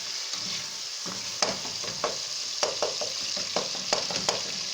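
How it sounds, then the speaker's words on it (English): Tomatoes frying in a pot as the base of a fish stew, a steady close sizzle broken by a series of sharp stirring scrapes and taps, no speech. "You have to allow the tomatoes to cook well and properly."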